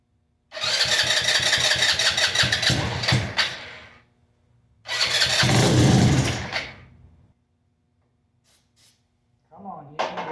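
A custom Maddog scooter engine, primed with starting fluid, cranks and sputters in two long loud attempts, each roaring briefly before dying away, followed by near silence and a short final rumble.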